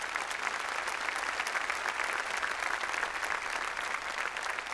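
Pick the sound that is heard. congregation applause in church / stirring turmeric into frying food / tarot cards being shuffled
congregation applause in church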